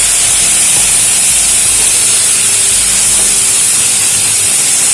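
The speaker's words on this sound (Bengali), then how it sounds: "এবার এর মধ্যে আমি দিয়ে দেবো হাফ কাপ মতো জল" Half a cup of water poured into a hot pan of fried vegetables gives a loud, continuous steam hiss that stays steady and close for the whole stretch, with no talking.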